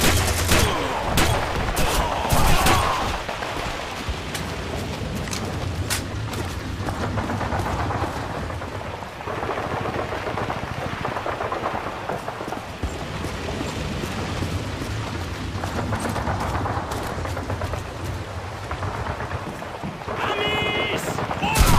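Dense gunfire crackles through a Call of Duty battle, with rapid bursts and single shots layered over one another continuously, close and loud, while shouted voices sound in the background.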